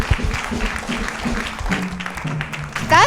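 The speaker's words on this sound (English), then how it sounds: "A round of applause for everyone" Audience applause at a televised singing competition, a short burst of clapping with some voices mixed in and cheering rising toward the end.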